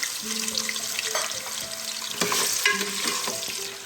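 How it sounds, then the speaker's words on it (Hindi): Cumin seeds crackle and sizzle in hot oil in a pan, a steady busy frying hiss with small pops and a brief stirring sound, close and fairly loud with no talking. "इसमें मैंने 1 टीस्पून जितना जीरा डाल दिया है। जैसा क्रैकल होगा मैं इसमें पटेटोज डाल दूंगी।"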